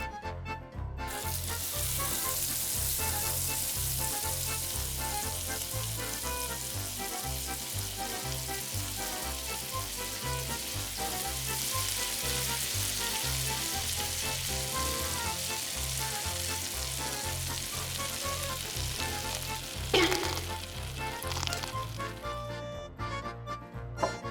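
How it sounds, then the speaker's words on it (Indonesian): Squid tentacles fry in hot oil in a tiny frying pan, a dense, continuous close-up sizzle that holds steady for over twenty seconds with a brief clatter near the end. "Goreng tentakel cumi."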